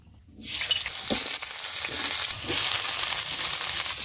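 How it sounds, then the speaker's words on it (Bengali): Loud, continuous sizzle of vegetables hitting hot mustard oil, with bright hissing and occasional scraping stirs, close and steady after a quiet start. "গরম তেলের মধ্যে এই সব সবজিগুলো ভালো করে একটু ভেজে নেব"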